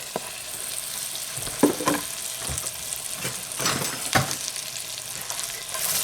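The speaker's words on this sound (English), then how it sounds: "it says to fry the onions until golden" Sliced onions frying in butter in a pan, a continuous close sizzle with occasional scrapes and stirs of a utensil, no voices.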